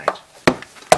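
A KJWorks KP-06 Hi-Capa 1911 airsoft pistol fires three sharp, close blowback shots, evenly spaced about half a second apart, each a crisp snapping clack.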